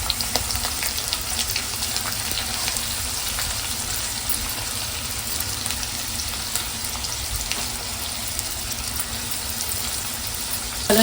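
Onion frying in hot oil for a home-style tempering makes a continuous, even sizzle up close, a dense hiss with faint crackles throughout and a brief clatter at the very end, with no voices.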